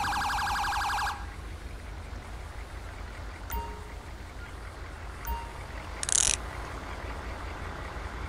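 An ambulance siren in Grand Theft Auto 5 wails in a fast electronic warble for about a second, then cuts off, leaving quiet background hum and a brief beep later.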